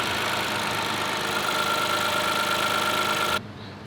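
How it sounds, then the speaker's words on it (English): A Toyota GR Corolla fitted with an HKS intake idles at a steady, loud, even hum for several seconds, then the level drops suddenly near the end. "right now I'm gonna turn on the car and hopefully I don't get a check engine light"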